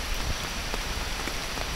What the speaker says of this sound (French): Je suis à l'abri sous mon tarp parce que il pleut.